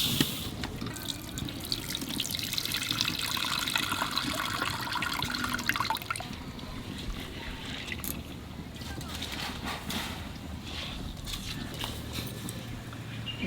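Red lentils (masoor dal) being rinsed by hand in water, a steady sloshing and trickling wash that runs throughout with no break, close by, over a faint low rumble of background.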